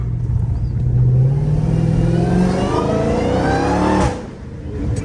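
A Dodge Challenger Hellcat Redeye engine with a straight-through open intake revs hard with a raw, throaty intake roar, pitch climbing steadily for about four seconds before the throttle drops off.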